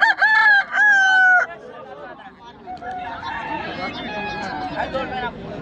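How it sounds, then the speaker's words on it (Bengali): Roosters crowing at a cockfight, with two loud nearby crows at the start followed by more distant crowing and clucking under a murmur of crowd chatter. "এখানে হচ্ছে মোরগ লড়াই,"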